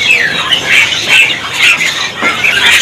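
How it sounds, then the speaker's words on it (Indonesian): A Bali myna squawks repeatedly in close, loud harsh bursts, several calls in an uneven rhythm, with no voices. "Untuk burung dari jalak Bali ini."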